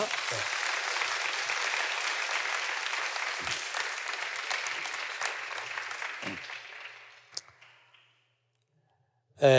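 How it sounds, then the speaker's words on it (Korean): A church congregation claps in thanks for the orchestra members and choir, a broad sustained round of applause that thins and fades out, followed by a brief silence and a sudden sound at the very end. "우리 수고하신 오케스트라 단원들, 우리 성가대원들에게 우리 감사와 격려의 박수 한번 드리겠습니다"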